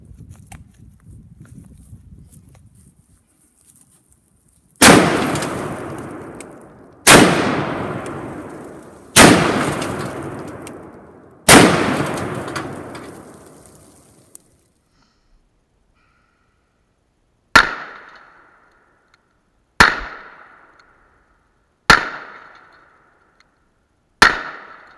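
Smith & Wesson 500 revolver fired at a clamped deck of cards outdoors, four loud booming shots with long echoing tails, then four sharper, more distant shots spaced about two seconds apart.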